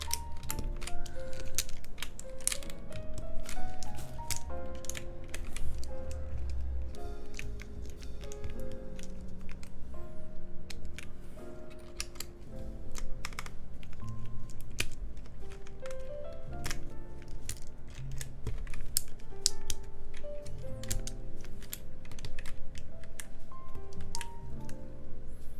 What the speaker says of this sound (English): Putting keycaps speed run.